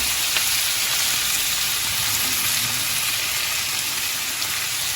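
Coriander and curry leaves frying in hot oil for pudina chicken fry, with mint already in the pan: a loud, dense, steady sizzle that stays close and even from start to finish, no voices.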